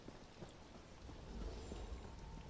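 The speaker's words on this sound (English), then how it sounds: "There's that sun peeking out while it rains." Steady rain falls across an outdoor scene in The Elder Scrolls Online, a soft continuous patter that swells slightly partway through, with a faint low rumble beneath and no voices.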